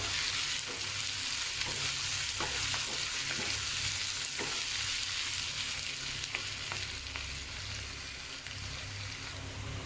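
Onions sautéing in a pan with curry leaves and a pinch of salt, a steady close sizzle of frying with scattered stirring clicks and scrapes running through the whole stretch.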